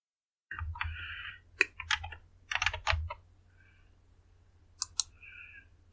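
Rapid clicking keystrokes on a computer keyboard while installing Windows XP in Qemu, in irregular bursts with short pauses, close and clear over a low steady hum, with no talking.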